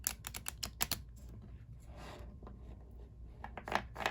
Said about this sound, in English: You can shuffle the cards however you are comfortable.